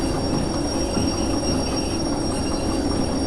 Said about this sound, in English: Look how long it takes to stop this train with the independent brake.